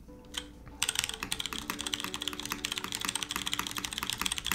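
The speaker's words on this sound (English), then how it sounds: "It does kind of sound like a gaming keyboard." Fast, steady typing on a custom Hiney TKL One mechanical keyboard with GMK keycaps, close and crisp, with a rapid run of clacky keystrokes and no talking.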